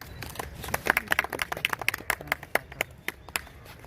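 A small crowd at a Jhelum Forum ceremony for the Altaf Park restoration project claps in sharp, distinct handclaps that cluster at first, then thin out and fade toward the end.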